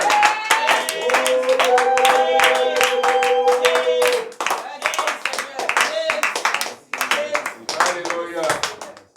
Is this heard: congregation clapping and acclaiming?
yes